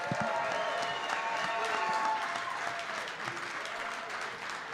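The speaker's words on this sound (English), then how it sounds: "How about a round of applause one more time for Evan Williams tonight?" A studio audience on a live Packers clubhouse show gives a round of applause for safety Evan Williams, moderately loud steady clapping with some cheering that tapers off slightly toward the end.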